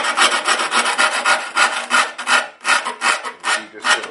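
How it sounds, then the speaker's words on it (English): A hand rasp files the burr off the edge of a Corsair 800D metal computer case in quick, even back-and-forth strokes, about a dozen loud rasping passes close up with no other sound. "You just sort of rasp it in one direction, and that will take that right off."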